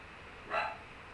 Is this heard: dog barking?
yes